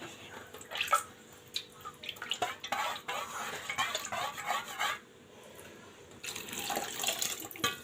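Food washed by hand under running tap water in a home kitchen, with splashing, sloshing and occasional clinks of a vessel, the flow rising and falling in bursts.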